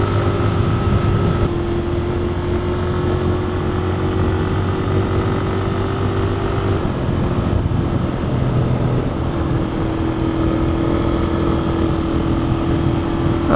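A Royal Enfield Continental GT 650 motorcycle engine drones steadily while riding over a bumpy road, a loud close hum with shifting pitch as revs change, mixed with heavy wind rush and no talk.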